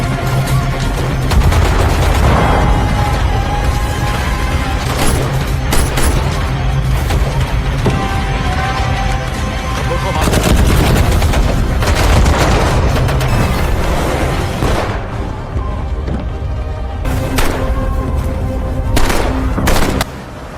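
Gunfire and explosions rage through a battle scene in a film, with dense, loud volleys of shots and booms layered continuously over one another.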